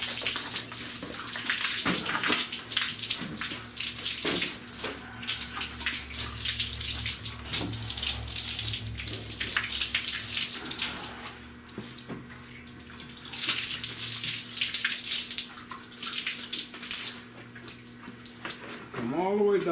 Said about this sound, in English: Start on one side and rinse it down.